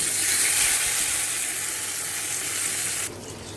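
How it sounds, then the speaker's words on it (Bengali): Fried bori lentil dumplings with panch phoron, dried red chilies and bay leaves are tipped into a curry, setting off a loud, continuous frying sizzle that cuts down sharply near the end. "এবার এটা তরকারির মধ্যে দিয়ে দেবো"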